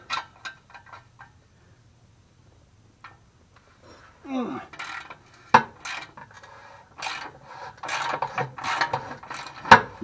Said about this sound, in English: We're turning wrenches today.